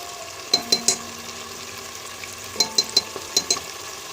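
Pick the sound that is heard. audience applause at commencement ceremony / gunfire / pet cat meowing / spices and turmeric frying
spices and turmeric frying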